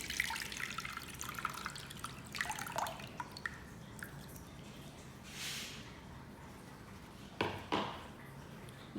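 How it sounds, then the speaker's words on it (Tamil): Tamarind water poured into a pot for a South Indian fish curry, with faint trickling and a few splashy bursts of liquid over quiet kitchen background, no talking. "என் புளியில் மண் ஒன்றும் இல்லை, அதனால் நான் அதை அப்படியே ஊற்ற போகிறேன்."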